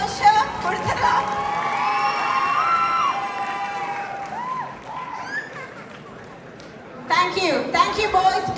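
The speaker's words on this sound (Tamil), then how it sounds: "கரகோஷ கொடுத்துடலாம்." A concert crowd in Paris cheers and whoops, with excited shouts and chatter rising over a sustained tonal backdrop, then swelling again in a loud burst near the end.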